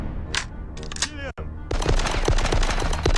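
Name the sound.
gunfire shooting enemies in a video game speedrun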